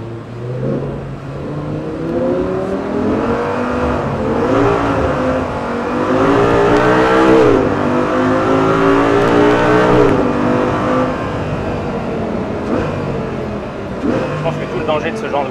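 An Audi R8 GT with a V10 engine accelerates hard on a flat test area, its loud, close engine note climbing in pitch and dropping back between gear shifts.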